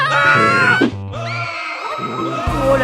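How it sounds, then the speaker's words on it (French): Several people scream loudly in a screaming contest, long piercing shrieks that briefly break off and then start up again, close and harsh. "Je propose un concours de cris."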